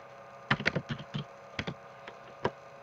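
Keys on a computer keyboard are tapped in short clustered bursts, a handful of crisp clicks close up against a quiet background, with no voices.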